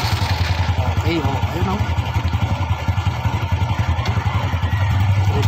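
A motorcycle engine fitted with a LiFePO4 32650 battery pack runs at idle, a close, loud, steady pulsing putter with rapid even beats, while someone speaks briefly over it.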